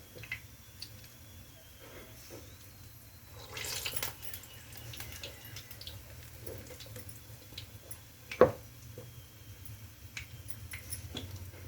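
Quiet splashes and drips of water as wet hands are dipped while shaping urad dal vada in a kitchen, soft intermittent sounds over a low background hum with one sharper splash.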